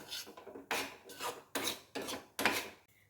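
A spoon scrapes and stirs flour roasting in a pan over low gas, six rhythmic raspy strokes about half a second apart, close and fairly loud with no talk.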